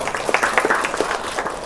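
Audience at a Beerelingeshwara temple fair performance in Hirevankalakunta, Koppal, clapping at the program's close; a brief burst of scattered, fairly soft handclaps.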